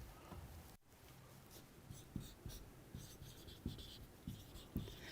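A teacher writes letters by hand in a quiet room, producing faint, scratchy pen strokes in short bursts, with a few small taps between them.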